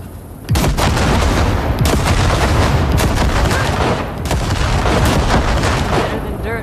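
Heavy guns blasting ship wrecks near the Basilisk cargo ship in Cyberpunk 2077, loud, close bursts of rapid fire and booming impacts that start abruptly and pound on almost without pause.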